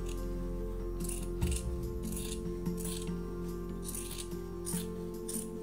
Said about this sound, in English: you're just going to go ahead and just trim down your seam allowance by about half.